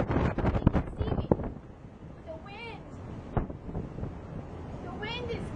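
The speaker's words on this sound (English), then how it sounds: "The wind is crazy, and the wind is pushing drops in your eyes." Strong gusting wind during Hurricane Sandy buffets the microphone with a low, rough roar in an empty street, while a person talks loudly over it in the open air.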